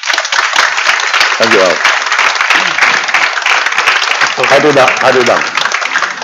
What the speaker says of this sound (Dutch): Graag een hartelijk applaus.